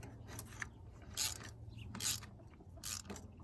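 A ratchet tightens spark plugs on a Toyota RAV4, giving three short, faint bursts of clicking spaced about a second apart over a quiet background, with no talking.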